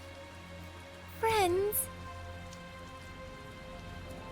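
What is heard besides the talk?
rain in the video game Tales of Zestiria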